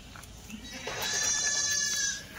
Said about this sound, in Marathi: गाभण शेळी बघा.